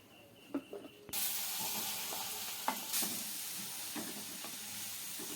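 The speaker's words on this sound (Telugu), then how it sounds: "ఇప్పుడు ఇందులోనే మనం తురుముకున్న బీట్రూట్ వేసుకుందామండి" Grated beetroot hits hot oil in a pan for beetroot halwa, bursting into a loud, steady sizzle after a few soft stirring clinks, with spoon scrapes continuing over the frying.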